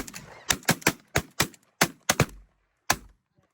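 Shotguns fired at snow geese during a fall hunt in North Dakota: about nine sharp, loud blasts in a rapid irregular volley, with a final lone shot after a short pause.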